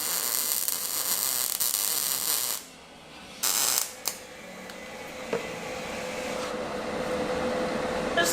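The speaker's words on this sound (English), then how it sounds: "Just laying some good welds" An Eastwood welder lays beads on a limousine project, giving a steady crackling, hissing buzz that cuts out briefly a couple of times before resuming at an even level.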